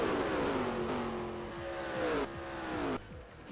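Race car engines whine in the NASCAR Racing 2003 video game on the Daytona Superspeedway oval, with pitches dropping as cars slow. The engine tone cuts sharply twice near the end, and no one talks.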